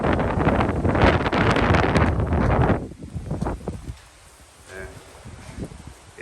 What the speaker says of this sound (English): Yeah, it's definitely windy.